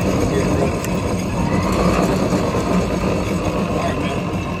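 EZGO Marathon golf cart with its solenoid jumped across the two big posts, driving along with a loud, steady, rumbling motor-and-wheel drone close by, while a person talks over it.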